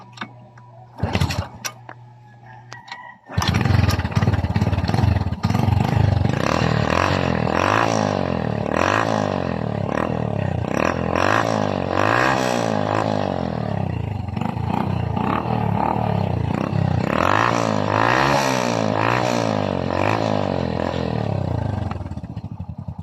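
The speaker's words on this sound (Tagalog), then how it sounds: "na-accelerate na natin at na-full throttle na natin ang kanyang silinyador" After a few sputters, a Honda XRM 110 motorcycle engine roars to life and revs hard at full throttle, the pitch rising and falling repeatedly for nearly twenty seconds.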